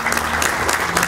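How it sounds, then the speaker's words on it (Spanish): Steady applause from a crowd, a dense continuous clatter of clapping hands at even loudness throughout. "También quiero pedir un aplauso para la mayor por haber participado."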